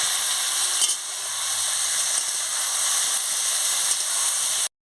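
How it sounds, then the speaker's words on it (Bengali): Fish for a Bengali chochchori stirred and frying in a pan, a loud, steady sizzle with hissing steam and an occasional stir, continuous and close without any voices. "এবার আমি মাছটাও দিয়ে দিচ্ছি। দিয়ে ভালো করে নাড়িয়ে নিচ্ছি।"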